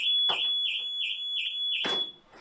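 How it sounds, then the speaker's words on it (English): A VW Crafter camper van alarm beeps in a rapid, steady, high-pitched pulse, loud and close, with a couple of clunks partway through. "Wow, my alarm goes off, so that's good."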